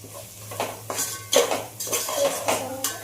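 A spoon stirs fish curry seasoned with chili in a metal pan, giving repeated scraping and clinking strokes in an uneven rhythm, close and moderately loud, with no voices.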